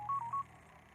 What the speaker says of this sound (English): I just got a phone call from something called Scam Likely.